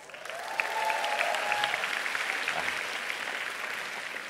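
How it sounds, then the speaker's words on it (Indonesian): Audience at an Indonesian climate forum breaking into applause, a steady wash of clapping from a seated crowd, moderately loud and sustained, with a faint voice briefly at the start. "Tepuk tangan."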